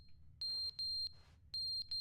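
A beeping alarm in The Stanley Parable video game sounds as three long, loud, steady high-pitched tones with short gaps between them, then a fourth begins, over a low background hum.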